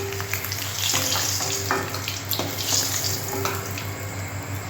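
Hot oil sizzles in a pan while fried eggs are cooked for a Bengali mashed egg and potato curry, a continuous crackling hiss with occasional utensil scrapes and a steady low hum underneath.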